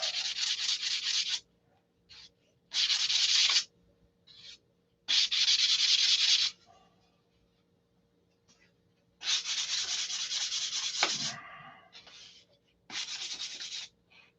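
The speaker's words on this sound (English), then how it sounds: "where those lumps are from rolling over, we're going to sand those off" Sandpaper rubs over lumps on a control line model aircraft, several loud scratchy bursts of one to two seconds separated by pauses and a few short strokes, close up with no talk.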